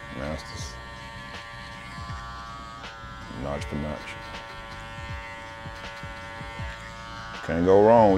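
Hair clippers cut a taper fade, giving a constant electric buzz with a steady pitched hum that runs under someone talking and grows louder near the end.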